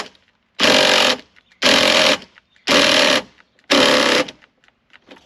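Cordless impact wrench working on a Volkswagen New Beetle, four loud, evenly spaced hammering bursts of about a second each, separated by short quiet gaps, close to the listener.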